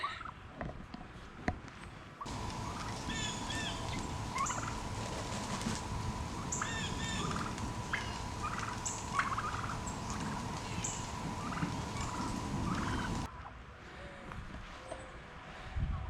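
Turkeys gobble near a tall wooden roost on a farm, their rattling calls repeating in bursts over a steady outdoor background hum that grows louder through the middle stretch, with no talking.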